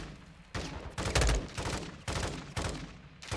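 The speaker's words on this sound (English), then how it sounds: "Why are you shooting over there?" Heavy gunfire crackles in the Call of Duty Modern Warfare 2 campaign. Dense volleys of shots come in repeated bursts about every half second, loud and continuous with no talking.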